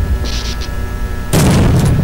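A firecracker-like blast in the Pesadelo horror game, one sudden loud broadband burst cutting in after a faint hiss and lingering as a rough crackling roar to the end.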